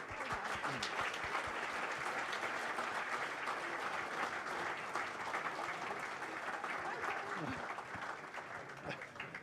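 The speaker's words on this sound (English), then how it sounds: "And keep clapping" An audience at the Active Essex Sports Awards 2015 keeps up continuous applause, a steady wash of clapping heard throughout that fades slightly toward the end.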